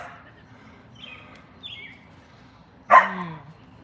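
Dogs bark: one sharp, loud bark near the end follows fainter, distant yips and whines, with light background noise and no talking.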